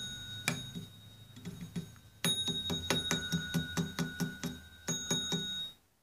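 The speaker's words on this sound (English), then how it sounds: "This is a mechanical doorbell." An old mechanical doorbell strikes an actual metal bell, ringing out in a quick run of sharp, bright dings with sustained tones, then a short pause and a few more strikes before fading.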